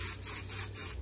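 Copper spray from an aerosol can hisses onto a new metal beaver panel in several short, close bursts, each a sharp airy rush separated by brief pauses.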